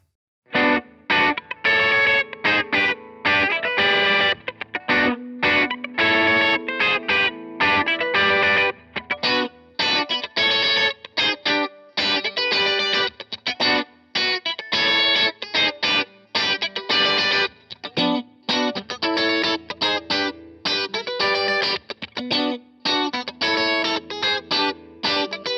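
A guitar plays through a Mooer Tone Capture mini modelling pedal, giving a steady, dense run of distorted, effects-laden strummed chords and riffs at moderate level, with no talking.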